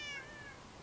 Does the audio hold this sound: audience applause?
no